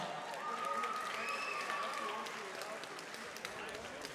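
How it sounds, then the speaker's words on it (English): Crowd applause at a boxing event for two fighters before the decision is read, moderately loud and steady, with a voice briefly audible over the clapping. "let's give these two fighters a big round of applause"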